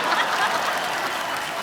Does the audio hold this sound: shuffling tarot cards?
no